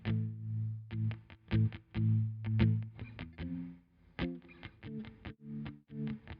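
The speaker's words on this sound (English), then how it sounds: "I'm going to add a bit of tremolo to this, just to make it interesting." A plucked guitar-like phrase with pulsing, wobbling volume and a spacious reverberant tail, notes repeating in a steady rhythmic pattern.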